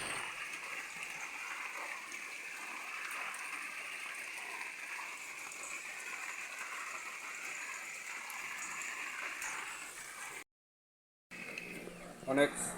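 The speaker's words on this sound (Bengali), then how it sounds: "আবার বৃষ্টি হলো আমাদের উঠানে বৃষ্টি পানিতে ভরে গেছে অনেক" Steady rain falls into a water-filled courtyard, a constant even hiss and patter that cuts out briefly near the end, with voices talking over it.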